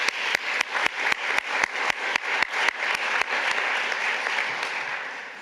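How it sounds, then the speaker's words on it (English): Round of applause at an Eagle Scout Court of Honor, with a series of sharp, evenly spaced loud claps over a steady crowd clapping that continues, then gradually thins out. "I just want to give a quick round of applause for them."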